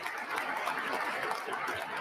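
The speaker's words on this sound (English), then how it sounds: "They're not clapping for nothing." Audience clapping during a presidential inaugural speech, a steady dense wash of many hands that holds evenly for about two seconds at moderate-to-low level with no talk over it.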